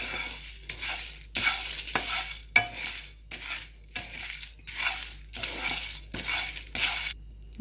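Red chilies and spices dry roasting in a pan, stirred with a steady rhythm of scraping strokes and faint crackling, close and moderately loud with no talk.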